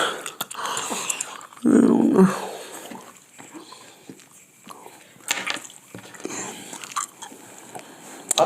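Someone chewing a large wad of many pieces of gum at once, wet smacking and squelching bites close to the mouth, irregular and loud at first, then quieter clicks and chews, with occasional murmurs.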